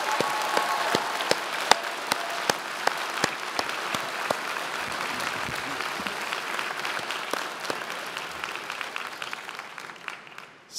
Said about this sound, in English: please join me as we give your loved ones a well-deserved round of applause